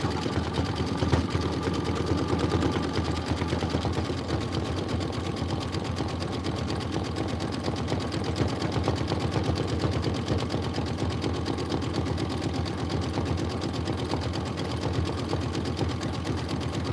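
An embroidery machine stitching a satin outline on a pillow project, its needle running in a fast, even mechanical hum that stays steady and close throughout with no talk.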